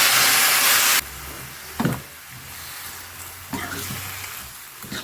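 Green beans cooking in a pan with chili powder, salt and water give off a steady broadband sizzle, with a louder burst at the start and a few brief bumps and stirs afterward, no voices.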